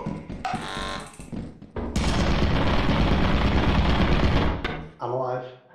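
Turret firing in Lethal Company, a loud continuous burst of rapid gunfire lasting several seconds, preceded and followed by voices talking.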